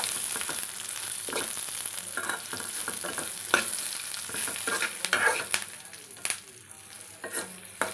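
Curry leaves and garlic fry in hot oil in a pan while making birakaya pachadi, giving a constant crackling sizzle. Scattered spoon stirs and pops rise above it, close and fairly loud, with no voices.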